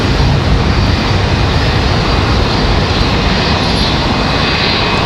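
A PSA Airlines Mitsubishi CRJ 900LR regional jet departing Charlotte Douglas airport, its engines producing a steady, loud, broadband roar that holds without break throughout, with no voices.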